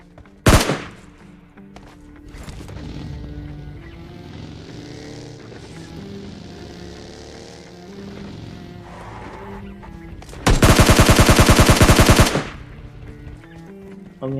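Gunfire rings out in a battle royale video game: a sharp single shot early, then a low hum of game ambience before a loud, sustained burst of rapid automatic fire lasting about two seconds.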